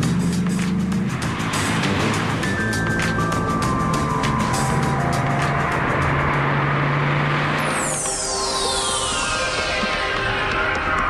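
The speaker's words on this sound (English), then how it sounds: "Full throttle, the Viper has trouble with its tyres spinning. Fast, loud and awesome, the Viper" A Dodge Viper SRT10 roars at full throttle with its tyres spinning, a loud continuous engine blare that changes pitch partway through as the revs sweep, with no voices.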